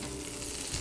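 Broccoli sizzling in butter in a pan over very low heat, a steady soft frying hiss throughout, quiet and close, with no voices.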